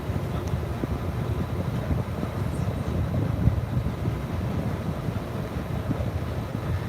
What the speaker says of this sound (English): There's some wind out here.